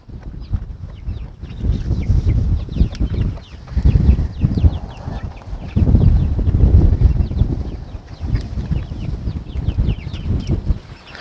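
A Ligorin hen clucks repeatedly at close range near a doorway, in short bursts with brief pauses between them, and scratching or shuffling sounds come through underneath.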